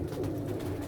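A brief, soft murmur of pigeons cooing, low and continuous, with nothing else standing out.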